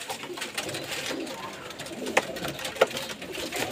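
Rampuri pigeons coo in soft, low repeated murmurs nearby, with a couple of brief sharper taps cutting through the steady cooing.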